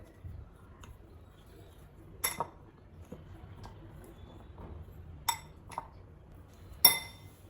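Potato filling with spices mixed in a bowl, heard as faint quiet stirring with a few sharp, isolated spoon clinks against the bowl scattered over the stretch, no talk.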